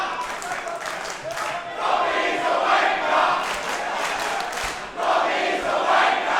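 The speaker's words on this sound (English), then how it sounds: "Just a little bit of feedback for Robbie Thorpe from the crowd in the Thornbury Theatre" Wrestling crowd at the Thornbury Theatre during an MCW High Stakes event, a dense roar of voices rising into rhythmic chanting that swells and holds steady, loud and continuous throughout.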